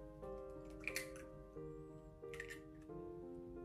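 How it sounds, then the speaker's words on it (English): Three eggs cracked open one after another for Japanese egg soboro, heard as two short, crisp cracks with a soft wet squish under steady background music. "Crack open 3 eggs"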